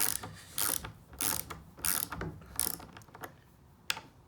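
Mini ratchet with a 1/4-inch socket being tightened, giving several bursts of rapid close clicking from the pawl, each run a second or less, with a faint final click.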